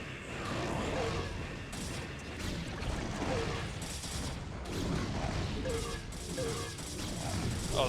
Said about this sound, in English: the Dark Templar are going to just die to the cannons